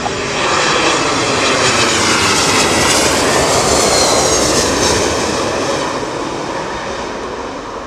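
An Airbus A380 airliner passes near London Heathrow Airport during a storm, a loud, sustained engine roar that swells and then slowly fades as the aircraft moves on.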